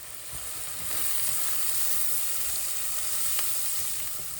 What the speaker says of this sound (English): our shallots, carrots, seasoning. We stir it a little bit, get it all going.